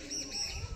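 Large pigeons give a soft, low coo in a brief, quiet burst close by.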